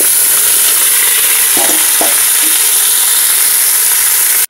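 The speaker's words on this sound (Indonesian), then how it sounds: "lalu kita masukkan iga sapinya sama ceker ayamnya yang telah dicuci bersih" Beef ribs and chicken feet sizzle hard with fried shallots in a pot for Indonesian rib soup, a loud constant frying hiss broken by a few soft clunks of stirring.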